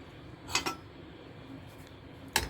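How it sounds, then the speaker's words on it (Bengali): A metal spoon clinks against a pot while stirring sugar into milk, giving a few quiet scraping taps early and a sharper clink at the end, with no talking. "ভালো করে মিশিয়ে নিচ্ছি চিনিটা।"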